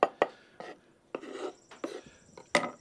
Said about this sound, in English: now that we have a good many strawberries chopped up